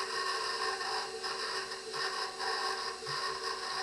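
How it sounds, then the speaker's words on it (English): A stand mixer runs steadily while kneading butter pieces into pie dough, a faint continuous motor whir with soft rhythmic rubbing and thumping pulses, no talking. "So now with my mixer running, I'm going to start adding in my butter."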